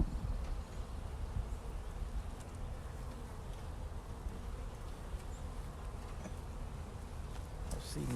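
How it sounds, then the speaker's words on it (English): Honey bees buzz steadily around a hive that has been robbed out, a dense, continuous drone of many insects close by with no talking. "I see bees."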